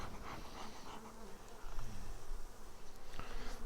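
Honeybees buzz steadily around a flow hive, a dense close hum that grows louder partway through as the swarm moves nearer, with no talking.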